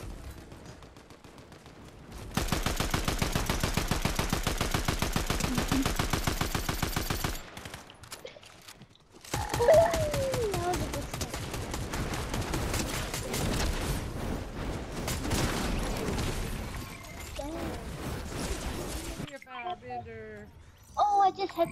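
Sustained rapid gunfire in Fortnite, with a steady run of evenly spaced shots and then scattered bursts, heard beneath players chatting throughout.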